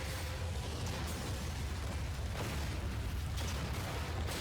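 Rocket launcher explosion in Resident Evil 4, a dense continuous roaring rumble with a few sharper bursts riding on top, loud and sustained, no one speaking.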